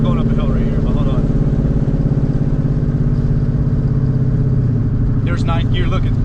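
A twin-turbo Ford Mustang engine pulls uphill with a loud, steady low drone that stays dense throughout, and a brief voice breaks in near the end.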